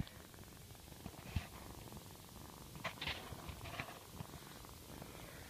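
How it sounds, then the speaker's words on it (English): A rescued feral kitten purrs continuously at close range, a soft low rumble, with a few faint handling noises and rustles over it. "She's purring the heck out."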